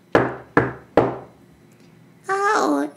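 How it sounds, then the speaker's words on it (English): Three loud, close knocks on a wooden door, evenly spaced about half a second apart, each with a short woody ring. A voice follows afterward, as in a told fairy tale. "the wolf ran to Grandmother's house and knocked on her"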